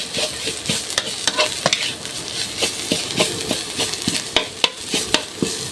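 Pork offal stir-fried with cumin leaves in a pan, a steady sizzle broken by repeated sharp scrapes and clinks of a spatula stirring close by, with no talking.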